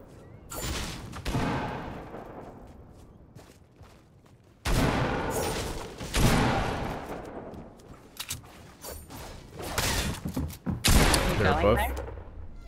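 Scattered gunshots in a shooter game: several sharp reports with decaying tails, some close and loud and others in quicker bursts, with talking mixed in.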